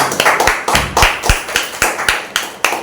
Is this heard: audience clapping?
yes